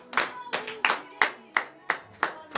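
A congregation claps in acclamation during a morning prayer service in Benin, a steady series of single sharp claps at an even pace, fairly faint and distant with no talk over them.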